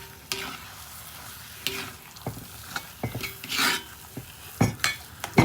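Grated coconut and elephant foot yam frying in a pan: a steady soft sizzle under repeated scraping strokes of a spoon stirring against the metal, close up, with no talking.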